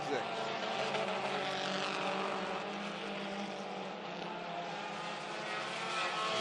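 4-cylinder dirt ministock race cars roaring around a dirt speedway off turn four, a dense continuous engine drone from several cars, heard at a distance beneath commentary.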